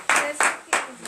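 Three sharp, evenly spaced claps ring out in a morning prayer gathering in Bénin, loud and close, with a faint voice beneath.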